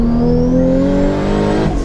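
Japanese sports car accelerating hard at a car event, its engine note climbing steadily in pitch through a short, loud, close pull.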